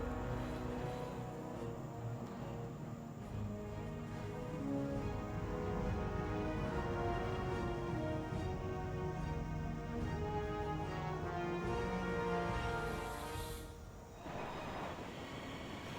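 The Deeprun Tram subway ride in World of Warcraft rumbles along rails in a continuous, loud underground roar with steady rolling clatter and occasional wheel squeal, without speech.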